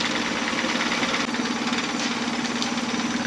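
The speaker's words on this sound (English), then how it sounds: "So then the engine does start perfectly and runs excellent" A Mercury 9.9 four-stroke outboard engine running steadily after a service, a loud continuous mechanical drone with a fast, even rhythmic knock and buzzing vibration, close and alone.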